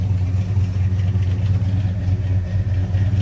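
A car engine fitted with a cold case radiator and electric fans idles around 750 rpm, a steady low loping rumble heard close and continuous with no voices.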